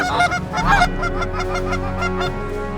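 Wild waterfowl call loudly and close by as a dense stream of repeated goose-like honks that overlap and carry on steadily, with wind rumble underneath.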